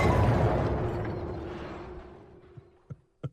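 An explosion sound effect: a loud broadband blast that rumbles and slowly fades, followed by a few sharp isolated pops near the end.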